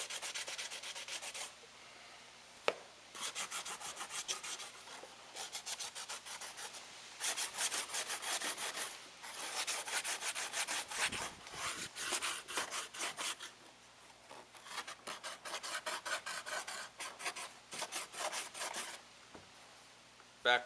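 Hand sanding the edge of an aircraft window with 80 grit sandpaper on a Glastar Sportsman, a close, quiet scratchy rubbing in quick repeated strokes with short pauses between bursts.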